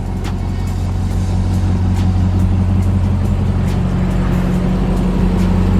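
A Ram TRX pickup truck fitted with 22x10 American Force wheels rolls into a home garage. A loud, steady engine rumble runs close by throughout.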